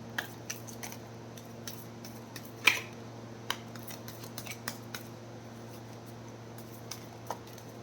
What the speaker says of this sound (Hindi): This is my last shuffle.